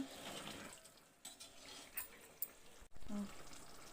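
Water pours in short bursts into a rice pot, with a faint splash and light clatter, fairly close and moderately loud, no talking.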